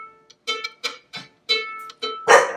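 A dog barks sharply about six times in quick succession, close and loud, with no talking over it.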